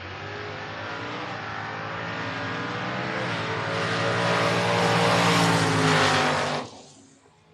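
A 4th gen Camaro door car launching down a drag strip, its engine roaring loud and rising steadily for about six seconds before cutting off abruptly as it pulls away.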